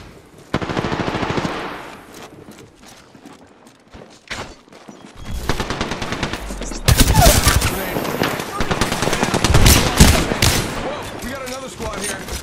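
Rapid automatic gunfire bursts from the video game Apex Legends, loud and dense with crackling shots, quieter stretches early then sustained heavy firing in the second half, with in-game voices talking.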